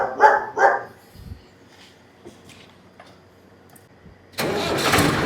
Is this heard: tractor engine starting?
yes